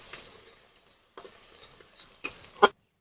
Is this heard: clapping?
no